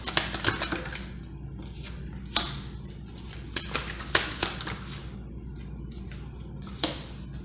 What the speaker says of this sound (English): Let me grab a different deck. Pull up a few cards here.